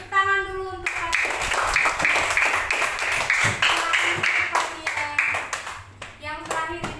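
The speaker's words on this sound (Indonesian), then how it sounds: "tepuk tangan dulu untuk Fatia" A classroom of children claps for a classmate, a dense burst of hand claps lasting several seconds with a voice briefly heard at the start and end.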